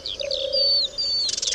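Several birds chirp and whistle up close at a wasteland site, with bright rapid tweets and a sustained clear whistle, ending in a burst of quick chatter.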